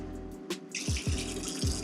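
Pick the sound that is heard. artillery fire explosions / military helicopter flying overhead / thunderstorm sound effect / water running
water running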